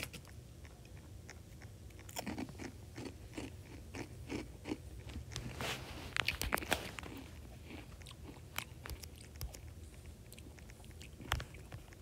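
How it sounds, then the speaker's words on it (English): Close, crisp crunching of chips being bitten and chewed, with repeated sharp bites and brittle crackles in an irregular rhythm throughout, mostly alone with no talk. "I'm gonna keep eating my chips."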